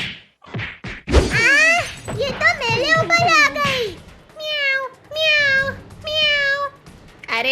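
A person imitates a cat, giving a run of loud, close, drawn-out meows in a comic scene, with excited child-like voices and thumps just before.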